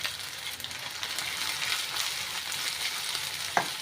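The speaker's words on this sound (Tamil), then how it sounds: "எண்ணெயிலே கொஞ்சம் 2 நிமிஷம் நல்லா பொரிய விடுங்க." Chopped ginger and green chillies fry in hot oil for inji puli, a steady soft sizzle with light stirring and one brief clink near the end, no talking.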